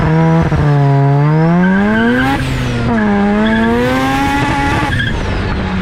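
A rotary-swapped Datsun 1200 with raised boost howls as it accelerates, its engine note climbing steadily through the gears, loud and close. The tires spin and squeal against the pavement as it pulls.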